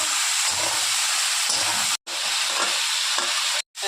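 Fish head curry with bottle gourd, salt, green chilli and turmeric fries in a pan, giving a steady, close, loud sizzle with stirring scrapes, cut by two short breaks near the middle and end.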